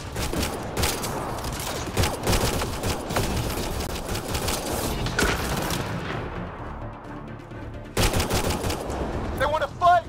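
Rapid gunfire from a firefight in the video game Mass Effect: Andromeda, dense bursts of shots and booms rattling through most of the stretch, a brief lull, then another loud volley near the end, with voices mixed in.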